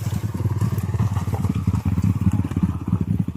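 A trail motorcycle being ridden down a dirt trail, its engine throbbing close by in a steady, pulsing chug at low revs.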